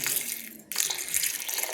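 Water runs steadily into a glass bowl of whole coriander seeds, a bright, close hissing splash with a brief drop in flow partway through before it pours strongly again.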